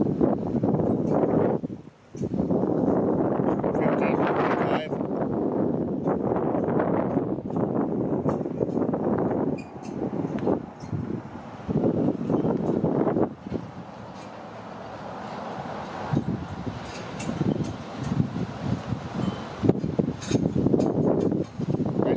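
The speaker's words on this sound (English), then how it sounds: "Strong wind from the east." Strong easterly wind buffets the microphone outdoors during a wildfire near the US border, roaring in long, uneven gusts with brief lulls and rustling throughout.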